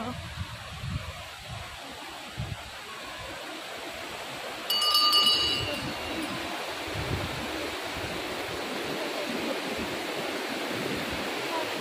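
A mountain river flows steadily near Muktinath, its broad rushing wash continuous and fairly close throughout, with a brief brighter clinking burst midway and faint voices in the background.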